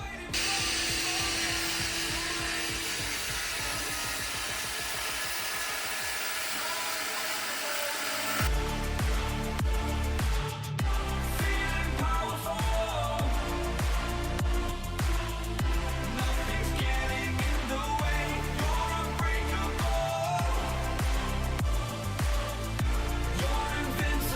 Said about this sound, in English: I'm gonna take the grinder out and we're gonna get to work.